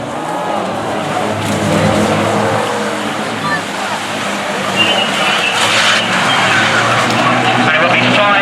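Banger cars racing round an oval track at Arlington, engines roaring and tyres skidding in a loud continuous wash of noise that swells and surges as the pack passes.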